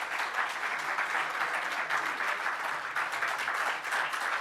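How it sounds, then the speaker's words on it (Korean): Sustained applause from a church congregation at a pastor's installation service, a steady dense wash of many hands clapping at even loudness throughout, with no voices over it. "다시 한번 큰 박수로 축하해 주시길 부탁드립니다."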